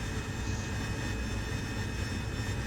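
AV-8B Harrier jet engine in DCS World, a loud steady whine and roar held throughout with no talk.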